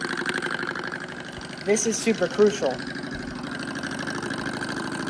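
A small Stirling engine runs on butane burner heat, giving off a steady, low mechanical hum with a faint rhythmic rattle. Someone talks briefly over it.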